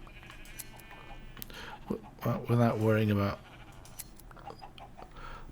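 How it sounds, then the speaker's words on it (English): Minecraft sheep give one clear, wavering bleat in the middle, surrounded by soft game ambience while someone talks briefly just before. "you can easily come along here and shear all the sheep you want to very quickly"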